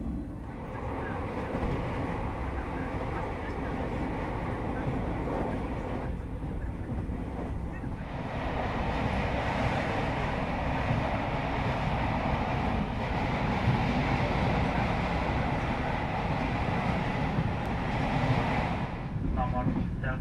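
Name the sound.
interior of moving economy passenger train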